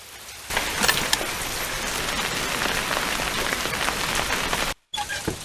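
Heavy rain pours steadily in a film scene, a dense, loud hiss that fills the whole stretch before cutting off briefly near the end and resuming.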